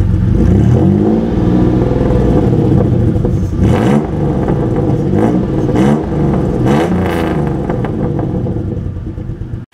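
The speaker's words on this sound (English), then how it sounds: "listening to the motor, it sounds really smooth out of idle" Toyota pickup with a swapped-in 3.4L engine runs loud and close, revving up and down several times in smooth bursts over a steady running drone, with no talking.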